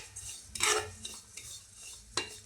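Sesame seeds and edible gum roasting in a pan while being stirred: soft rattling and scraping of a spoon against the pan with a faint background crackle, close up and fairly quiet, with no talk.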